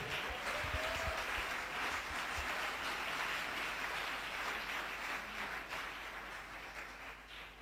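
A church congregation at a worship gathering applauding and cheering in acclamation of the Lord, a steady wash of clapping and voices filling the room at moderate distance.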